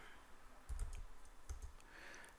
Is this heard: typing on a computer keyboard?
yes